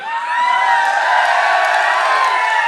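A dense crowd at an outdoor Congress party election rally in Haryana cheers and shouts continuously, a loud, sustained roar of many voices with no clear breaks.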